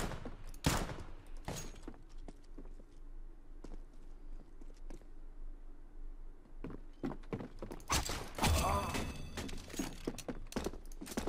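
Gunfire bursts and sharp shots in Counter-Strike: Global Offensive during a round, with clustered loud cracks near the start and a dense volley toward the end over background game noise.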